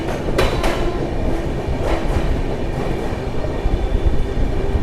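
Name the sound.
Jan Shatabdi Express train arriving at Nellore platform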